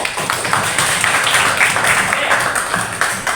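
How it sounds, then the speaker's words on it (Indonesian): Group hand clapping from students in a classroom, a loud, busy burst of many hands clapping together with uneven rhythm, filling the few seconds. "Biar semangat kita langsung kita tepuk tangan dulu"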